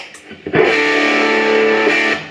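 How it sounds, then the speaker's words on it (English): An electric guitar played through a clone of the MXR Distortion+ pedal, set with distortion at noon, gives one loud strummed chord that rings out saturated and sustained for about a second and a half before cutting off. "I'm going to go to noon now with the distortion."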